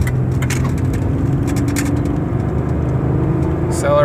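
A 1999 Ford Taurus accelerates up a highway on-ramp, heard from inside the cabin as a loud, steady engine and road roar with a voice talking over it.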